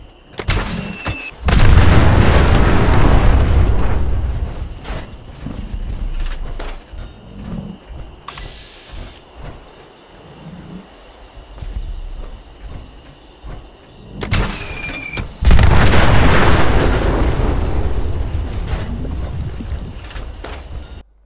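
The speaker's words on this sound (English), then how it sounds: "Carpet bomb this thing with mini nukes." Mini nukes in Fallout 76 detonate in two loud, booming blasts far apart, each a deep thunderous burst that rolls on for several seconds, with softer rumbling and thuds in the gap between them.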